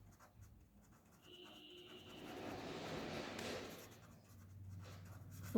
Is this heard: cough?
no